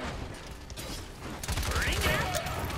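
Rapid bursts of heavy gunfire in the shooter game Paladins, dense rattling shots layered with mechanical clatter and whooshing effects, growing louder in the second half amid a busy battle mix.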